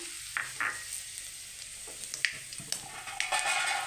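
Garlic sizzles in hot oil as mustard powder goes into the pan for a pumpkin chhechki, a steady close frying hiss with a few brief stirring scrapes and spatters.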